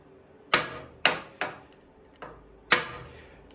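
Sharp metallic strikes of a hammer on a metal punch on a go-kart axle, five blows at uneven intervals, each ringing briefly, close and loud.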